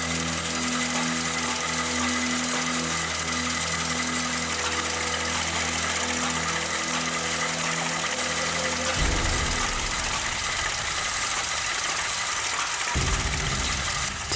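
A heavy vintage engine, started by hand crank, runs with a loud steady idling drone and knocking vibration, its tone shifting abruptly twice as the load or speed changes.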